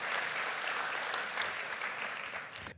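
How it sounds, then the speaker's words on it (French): Steady applause from an audience at a French political event, dense continuous clapping throughout, fairly loud and alone with no talk over it, tapering off slightly at the end. "Voilà, ça applaudit, les Dimi applaudissent."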